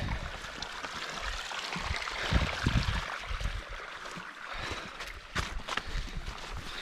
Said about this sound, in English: we've got a real creek.